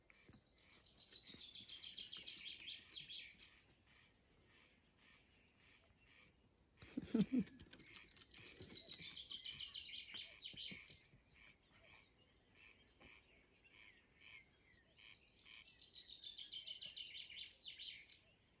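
Birds, including a thrush nightingale, cuckoo and swallow, chirp and trill in bursts of bright, high song, pausing between phrases, with a brief low thump partway through.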